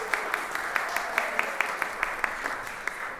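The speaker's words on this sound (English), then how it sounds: "I just turn up and people applaud." A museum audience applauds at the start of a composer's masterclass with Errollyn Wallen, giving a steady, moderately distant patter of claps with faint regular accents throughout.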